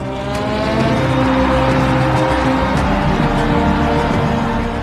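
Formula One cars on the final lap of a race, engines screaming at high revs in a dense, loud continuous drone as they fight for position, no talking.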